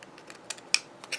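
Scissors snip through a fabric flower in a few quick, faint, crisp cuts, close by in a quiet room.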